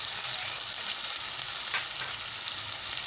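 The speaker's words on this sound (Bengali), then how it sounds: "এবার সব কিছু একসঙ্গে ভালোভাবে ভেজে নেব।" Spices and drumstick flowers fry in a pan for a vegetarian ghonto, giving a steady, close hiss and sizzle with faint stirring throughout and no talking.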